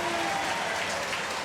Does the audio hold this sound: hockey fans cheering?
yes